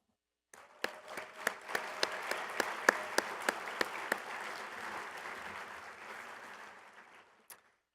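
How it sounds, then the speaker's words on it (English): A hall audience breaks into applause at an SVA gathering, with a few sharp near claps over a broad wash of clapping that swells, then gradually fades over several seconds. "please stand for a round of applause"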